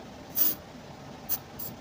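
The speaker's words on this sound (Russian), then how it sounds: "Вот, допустим, берем дезодорант спрей." A deodorant spray is sprayed onto a black cloth in two short, close hissing bursts, the first longer than the second, in a quiet room.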